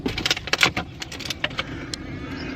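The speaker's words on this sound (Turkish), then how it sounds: "Arabanın yedek anahtarıyla açtım." A spare car key jangles and clicks as a car door is opened on an early-morning trip to the beach, with a rapid run of close metallic rattles that settles into quieter ticks.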